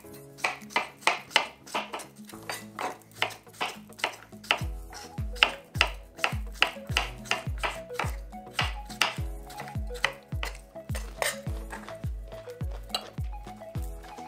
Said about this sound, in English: I gather both of them and I just cut them into slices